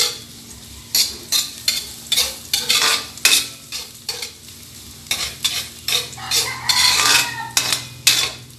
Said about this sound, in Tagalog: Ang luya, haluin lang.